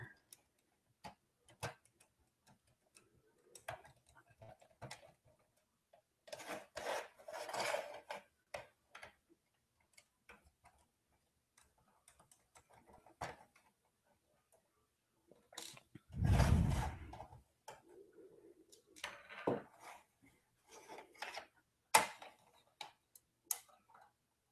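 Small screws are worked out of an Earthbound game cartridge with a screwdriver, producing sparse close clicks and ticks with scraping rustles and a loud handling thump midway, quiet pauses between them.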